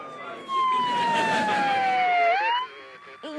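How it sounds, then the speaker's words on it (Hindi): A wailing siren sweeps steadily downward then rises again, loud and close, with faint voices in the background. "सायरन बज रहा है और कोई लाउड स्पीकर पे कुछ बोल रहा है"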